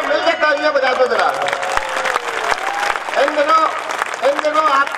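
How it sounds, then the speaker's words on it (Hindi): An audience at a Hindi poetry recital in Bahadurgarh claps in a sustained wash of applause, loud and crowded, while a voice keeps speaking over it. "तालियां बजा दो जरा।"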